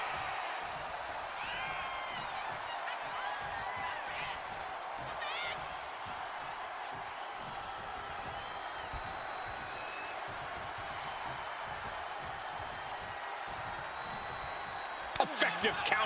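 Wrestling arena crowd in the video game WWE 2K25 keeps up a steady cheering roar with scattered whoops and chants, ending in a few sharp slams, while a commentator talks over it.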